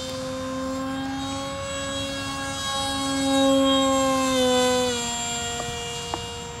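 An RC model airplane, the MPUAV V2, flies its maiden flight with a steady high motor whine that rises and falls in pitch as it passes, swelling louder midway, with no talking.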